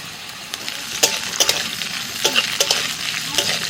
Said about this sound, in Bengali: দিয়ে দিচ্ছি ডিম ক্যাপসিকাম কুচি গাজর কুচি পেঁয়াজ কুচি আর কাঁচা লঙ্কা একসাথে দিয়ে দিচ্ছি